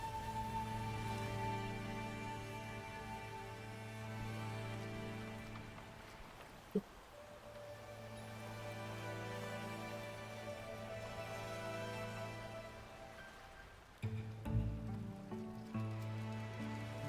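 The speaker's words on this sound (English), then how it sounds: "The rain is subsiding, and the sky will soon clear." Steady rain falls in the video game Wuthering Waves, a continuous hiss that runs throughout under sustained musical tones, with a sharp knock near the middle and a louder burst toward the end.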